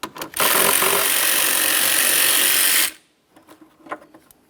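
A power tool runs steadily for about two and a half seconds, loud and close, backing out the single 13mm mounting bolt of a 2007-2017 Jeep Patriot coolant overflow tank, then stops; faint clicks and handling noises follow.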